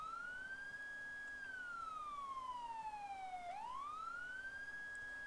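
A police car siren in the Arma II Life mod wails in one long smooth tone that slowly falls in pitch and then sweeps back up, heard alone and fairly faint.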